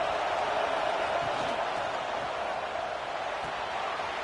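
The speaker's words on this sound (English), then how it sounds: "This crowd bringing the energy and noise early." Steady roar of a college football stadium crowd at a Michigan vs Texas A&M game, a dense continuous wash of many voices heard from a distance, with no single voice standing out, filling the whole clip.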